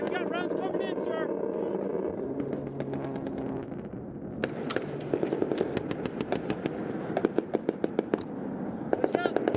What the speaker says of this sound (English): Hey, we got rounds coming in, sir.